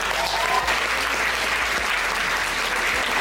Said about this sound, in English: Give a big round of applause for Dahlia and Lidu.